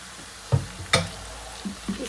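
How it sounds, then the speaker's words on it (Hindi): Minced meat (keema) tipped into a pan of browned garlic and onion, two quick sizzling bursts followed by a soft crackle as it is stirred, close and moderately loud, no voices. "इसके अंदर अब मैं सबसे पहले कीमा ऐड करूंगी।"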